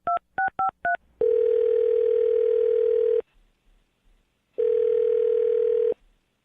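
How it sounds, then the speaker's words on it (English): A telephone dials a number with four quick touch-tone beeps, then two long, loud steady tones separated by a pause, clean and close with no voices. "I'm going to dial her phone number right now."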